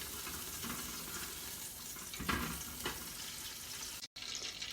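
Butter melting in a hot, empty pan gives a steady, close sizzle with a couple of sharper crackling bursts midway and a brief cut-out near the end.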